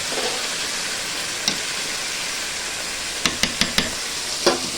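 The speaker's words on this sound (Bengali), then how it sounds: "এই যে কুমড়ো ভাজা হচ্ছে" Pumpkin frying in a pan, an even, close sizzle throughout, broken by several sharp clinks of a utensil stirring against the pan near the end.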